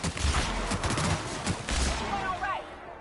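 Blasts from a charged gun in the video game Destiny 2, a cluster of loud shots through the first two seconds with bursts of in-game effects, under faint talk.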